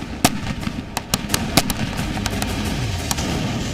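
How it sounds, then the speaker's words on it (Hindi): Missile explosions: sharp booming blasts crack out one after another at uneven intervals, some loud and near, others fainter, over a steady rumbling background. "और दहला देने वाले धमाके।"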